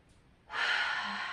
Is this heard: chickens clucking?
no